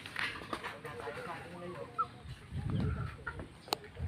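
Chickens cluck softly in the background while people talk nearby, with occasional rustling and a sharp click.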